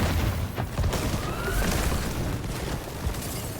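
A grenade goes off in the shooter game Highguard as a dense, noisy blast, followed by continuous loud rumbling and crackling battle din with no clear gaps.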